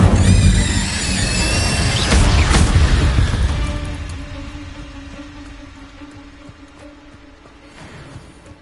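Incendio fire spell burst in Hogwarts Legacy: a loud whooshing blast of flame that booms at the start, then fades into a lingering crackle and low ambient hum over several seconds.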